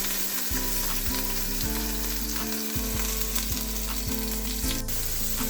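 Garlic sizzles and fries steadily in hot lard (manteca), close and loud, with occasional stirring scrapes and spatters and no talk.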